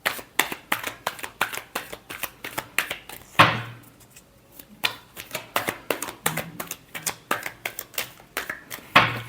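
Tarot cards shuffled by hand in a steady run of rapid riffling bursts, close and fairly loud, with a brief pause partway through before the shuffling resumes.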